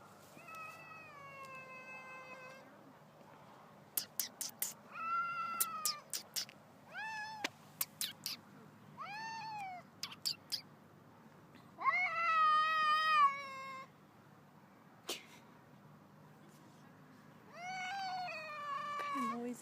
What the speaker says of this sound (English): cat is making a weird noise.